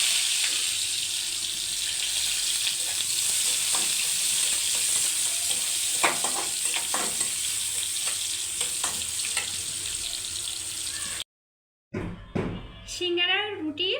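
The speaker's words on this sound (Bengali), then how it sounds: "এর সাথে আমি এবার পেঁয়াজ দিয়ে বাদামি কালার করে" Onions frying until brown for a samosa filling make a steady sizzle with stirring scrapes and occasional clicks for about eleven seconds, then cut to a short silence followed by someone speaking.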